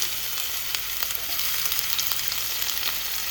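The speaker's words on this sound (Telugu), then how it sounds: "కొంచెం ఉల్లిపాయలు ఇందులో వేసేస్తున్నాను, కట్ చేసిన ఉల్లిపాయలు." Chopped onions sizzle and fry in hot oil in a pan for a Telugu-style chicken leg curry, a steady close crackle with small pops throughout, no talk.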